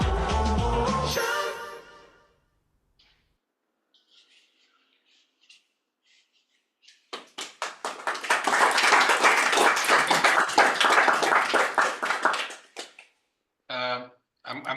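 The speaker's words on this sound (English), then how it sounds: "I'm glad we can still hear the round of applause now from the room" A room full of people at the UK Young Entrepreneur Awards 2024 bursts into a round of applause, dense clapping swelling after a fading sung melody and a quiet gap, then trailing off into brief voices.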